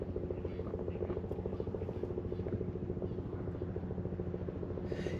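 A helicopter's rotor thumps in a steady, rapid chop, distant and fairly faint, throughout, at Uluru around sunset.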